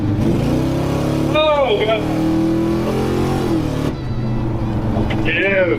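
A forgotten 1957 Chevy, freshly tuned up, revs its engine loudly and steadily up close, with excited voices talking and whooping over the running motor.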